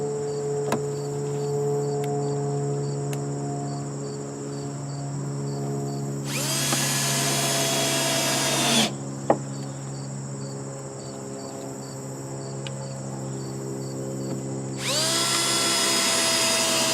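Power drill driving screws into wood while building hen nests, two loud, close bursts of whirring of roughly two seconds each, over a steady background of insect chirping, with no talk.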